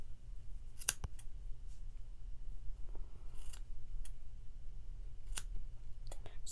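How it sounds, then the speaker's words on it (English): Scissors snip the bottom of a yarn tassel in a kids' craft setting: several quiet, crisp cuts spaced irregularly, close to the listener, with no talking over them. "We're just going to snip off the bottom, make it look a little nicer."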